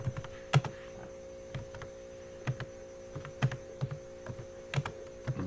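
Sparse keystrokes on a computer keyboard while C++ code is typed, irregular soft clicks spaced out over a steady low electrical hum, with no talking.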